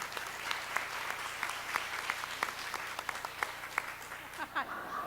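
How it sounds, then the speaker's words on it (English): An audience at an HR employee engagement event gives a round of applause: dense, steady clapping that carries through to the end, heard from a moderate distance and fairly soft. "let's give a round of applause for her for coming back and reporting."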